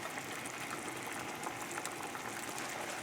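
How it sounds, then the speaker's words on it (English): Shrimp and scallop Newburg sauce at a steady bubbling boil, a dense, even hiss of popping bubbles that carries on without a break and without voices. "Bring it to one little boil."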